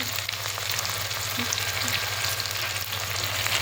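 A spiced curry base of fried onion and ginger-garlic paste, with sugar just added for an egg curry, hisses loudly in the pan while being stirred. The sizzle stays steady and close with faint scraping and no voices.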